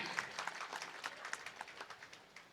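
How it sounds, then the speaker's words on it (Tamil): A crowd at a Tamil stage comedy seminar applauds, the claps starting dense and lively, then thinning into a slower, fading run of individual claps near the end. "நல்லா தட்டலாமே."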